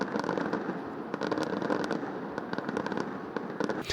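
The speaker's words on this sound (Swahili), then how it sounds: "Fataki zimehanikiza anga ya jiji kuu la Kenya." New Year 2026 fireworks burst over Nairobi, Kenya, in a dense, continuous barrage of crackling and popping bangs that stays loud and steady throughout.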